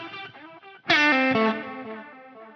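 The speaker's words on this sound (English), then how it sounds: "now we don't have the chorus delay being reverberated" An electric guitar runs through a Line 6 Helix with the chorus delay placed after the reverb. A distorted chord rings out shimmering and sustained, following a few softer plucked notes.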